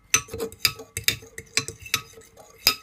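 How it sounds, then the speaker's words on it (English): A spoon stirring coffee in a container, quick repeated clinks and taps against the sides in an uneven rhythm, close and clear. "Give it a stir."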